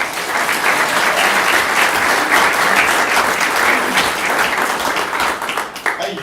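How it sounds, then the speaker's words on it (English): An audience at a Meet the Candidates evening in Atoka breaks into sustained, loud applause, a dense, even roar of clapping that carries on for several seconds and thins slightly at the end. "Round of applause for everybody."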